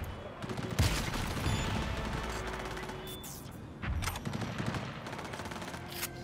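Rapid bursts of gunfire and a loud shotgun blast in Cyberpunk 2077 ring out over a dense, busy combat soundscape, with sharp cracks around one second and again near four seconds.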